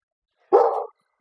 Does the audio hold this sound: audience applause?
no